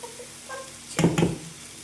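Chopped onions with a pinch of salt frying in a pan, a soft sizzle with a couple of brief stirring scrapes and clinks of the utensil against the pan.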